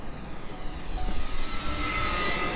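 An Avios Twin Otter RC floatplane with its floats fitted makes a low pass outdoors. A steady electric motor whine and propeller drone rises slightly and holds, with light wind noise underneath.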